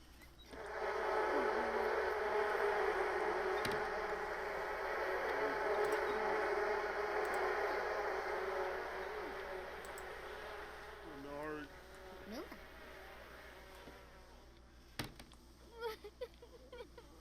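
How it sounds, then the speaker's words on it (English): Enraged bees in The Sims 4 swarm with a dense, loud buzzing that holds for about ten seconds, then fades, followed by scattered small clicks and sounds. "The bees are enraged."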